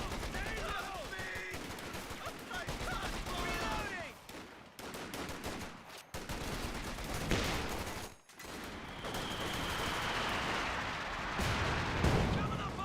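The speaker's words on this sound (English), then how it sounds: "Good mortar hits there on the Grenadiers, and these guys do get suppressed." Mortar strikes and gunfire in the video game Company of Heroes 2, dense rolling explosions and rapid rifle and machine-gun bursts sounding loud and continuous, with brief gaps between barrages.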